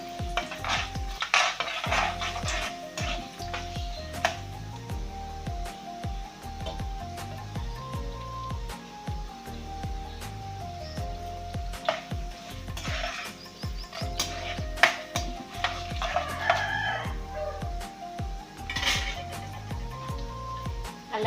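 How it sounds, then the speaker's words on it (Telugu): Onions fry and sizzle in a pan with cashews and seasoning while being preparing for upma, a spoon scraping and clinking steadily against the metal throughout, with no talk. "ఉల్లిపాయలు కూడా వేసుకున్నాం బాగా కలిపించుకున్నాము వేగిన దాకా"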